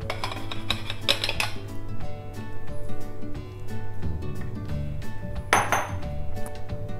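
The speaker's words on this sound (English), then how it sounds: "we're going to transfer all the mutton into the stock pot" Mutton is tipped into a metal stock pot with steady clanking and scraping of metal, sharper clinks at intervals, and continuous clatter close by.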